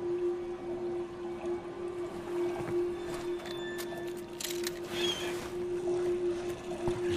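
A boat glides across water in the video game Wolfenstein: The Old Blood, with a steady engine drone and lapping, splashing water; occasional soft knocks and creaks, no voices.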